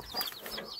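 Chicks in a rural Polesian farmhouse in Zhytomyr region giving high, thin peeping chirps, a few quick calls in under a second, soft and close with no talk.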